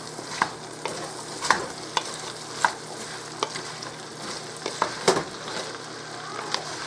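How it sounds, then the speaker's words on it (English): Chopped vegetables for potato soup sauteing in a pot, a steady close sizzle broken by repeated scraping stirs and clinks of a utensil against the pot. "we're going to saute these all up"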